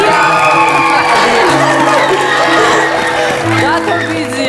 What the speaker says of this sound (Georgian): ეს არის ტაში, რასაც ჩვენ ვიმსახურეთ?